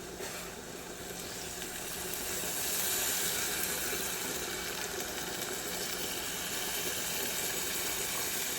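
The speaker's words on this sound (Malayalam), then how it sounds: "ഒരു 1/2 ഗ്ലാസ് തിളച്ച വെള്ളം ഒഴിച്ചു കൊടുക്കാം" Boiling water poured into a pot of curry with jackfruit seeds, dried prawns and mango makes a steady, close hissing splash that swells slightly and runs unbroken, with no voices.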